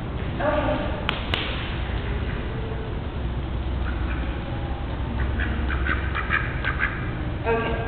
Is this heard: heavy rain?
no